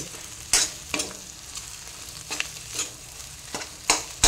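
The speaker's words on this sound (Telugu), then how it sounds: "ఇది అయిపోయింది, దోశ వేసుకున్నాం." Dosa batter frying on a hot pan for a morning tiffin, a steady soft sizzle broken by several sharp crackling bursts and scrapes, close by with no talk.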